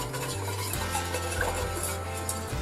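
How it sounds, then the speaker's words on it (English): Melted butter seasoned with salt and black pepper being stirred in a pan, soft scraping and swishing strokes close by over a faint sizzle and low kitchen hum. "Stir it up a little bit."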